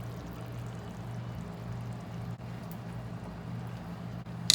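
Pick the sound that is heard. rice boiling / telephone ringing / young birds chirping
rice boiling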